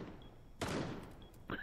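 Gunfire in Rainbow Six Siege aimed at a camera, with a couple of short, punchy shot bursts a second apart over quiet game ambience.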